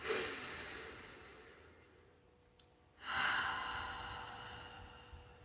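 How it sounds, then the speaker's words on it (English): Two slow, deep breaths taken close by, each a long airy exhale fading gradually in a quiet room, the second starting after a short pause; no talking. "let's just breathe together once more"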